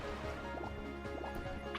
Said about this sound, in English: You can actually fly while you're in Dumbo's form and shoot water at things.